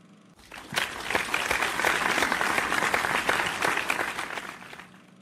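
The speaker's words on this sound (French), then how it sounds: "S'il vous plaît applaudissez pour lui." A church audience bursts into sustained applause for a pledged offering, dense steady clapping that swells quickly, holds for several seconds and tapers off near the end, with no talk over it.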